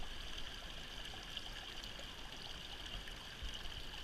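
Orange-tinted water flows steadily in a stream at a gold sluicing site, a constant broad rushing wash with no pauses and no voices.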